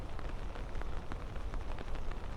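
Steady rain rattles down on surfaces in autumn wind, a dense even hiss with scattered sharper drops throughout, fairly close and unbroken, no voices.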